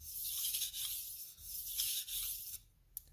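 A Western chef's knife is sharpened on a whetstone with light to moderate pressure, producing soft, rhythmic scraping strokes that rise and fall in repeated passes, close and quiet, ending with a small click.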